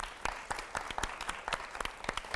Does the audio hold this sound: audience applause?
yes